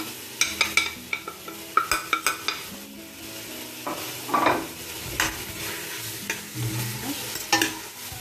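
Lamb and onions browning with ras el hanout, turmeric, pepper and sweet paprika in a pan, sizzling under a run of quick clattering spatula strokes, then slower scraping stirs, close and without talk.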